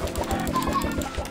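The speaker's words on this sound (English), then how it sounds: "welcome to the crew, little baby chickens." Baby chickens in the video game Minecraft give a quick series of soft, rhythmic clucks and chirps, close and fairly loud, repeating several times in just over a second.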